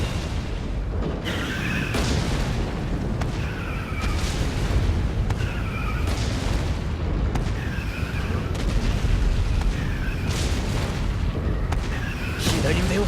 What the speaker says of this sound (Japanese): あの腕を砲撃してあいつの攻撃を防ぐ。